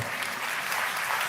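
Church audience clapping during a sermon, a brief, dense burst of many hands at a steady, fairly loud level with no voice over it.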